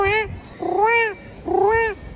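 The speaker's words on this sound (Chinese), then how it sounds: "喵语召唤，播放这段音频" Recorded cat meows played to lure stray cats: three drawn-out, tonal meows in a row, each rising then falling, fairly loud and close, with short quiet gaps between them.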